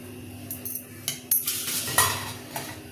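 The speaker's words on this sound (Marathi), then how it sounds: "झाकण उघडून बघूया।" A metal lid is lifted off a pot of steamed rice-flour dough for modak, giving a few sharp clanks and clinks, close by, scattered over a few seconds against a quiet background with no speech.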